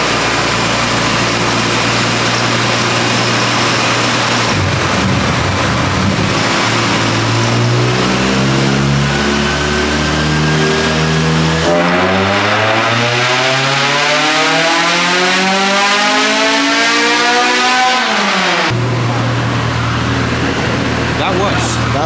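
A Honda K24A engine screams through a dyno pull, the pitch climbing steadily as revs rise, with a sharp rise in tone partway through as VTEC engages, then cutting back to idle; loud, close and sustained.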